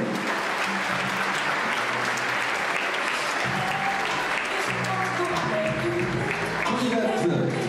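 A hall audience at the Miss Saône-et-Loire 2014 beauty pageant gives steady, sustained applause throughout, with a voice and tonal sounds faintly audible beneath the clapping.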